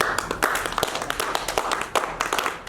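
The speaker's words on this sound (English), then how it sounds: "please give them a round of applause as well" A room full of people claps for a group of young people at a Marie Colvin tribute in a library, a dense, close patter of many hands that keeps going steadily.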